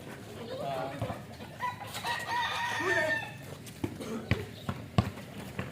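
A rooster crows nearby in a single drawn-out call amid people chatting at an outdoor basketball game. Sharp ball bounces thud intermittently before and after it.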